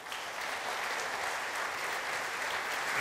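An audience at the Rhema 2023 opening applauds a new board president with steady, sustained clapping from a large crowd that holds an even level from start to finish.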